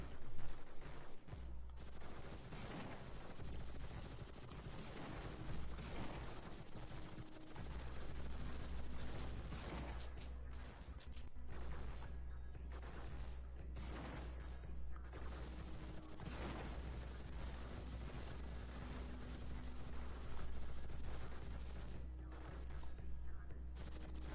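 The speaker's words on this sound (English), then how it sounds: "Looks like 50 cal headshots trying to take out that shotgun as it gets in close." In the robot arena game Gladiabots, shotgun blasts and 50 cal rounds crackle continuously under steady game music, with bursts of rapid mechanical fire throughout.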